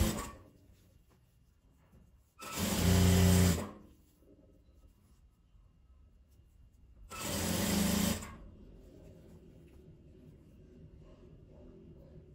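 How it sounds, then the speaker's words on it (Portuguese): A sewing machine stitches satin ribbon and fabric scraps for a bottle holder in two short, loud bursts a few seconds apart, with a quiet room between them. "Aqui agora eu vou passar a costura de um lado e do outro."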